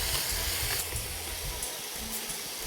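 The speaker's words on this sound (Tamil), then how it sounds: "இப்போ எல்லாத்தையும் ஒன்றா சேர்த்து நல்லா வதக்கிக்கலாம்." Moong dal and finely chopped tender coconut shoot sautéing together in a pan, giving a steady close hiss and sizzle with low rumbling underneath, continuous throughout with no talking.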